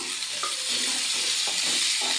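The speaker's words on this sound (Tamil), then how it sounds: "தக்காளி நல்லா வதங்கட்டும்." Tomatoes sizzle steadily in a hot frying pan, a loud, dense hiss with occasional soft stirring scrapes.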